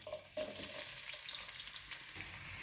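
Mustard seeds, cumin and onions sizzle in hot oil in a pan for a bitter gourd curry, a steady close hiss with faint crackles throughout and no talking.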